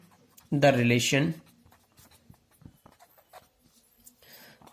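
Chalk or marker scratching on a board during a mathematics lecture on field extensions, faint intermittent strokes and taps following a short burst of the lecturer's speech.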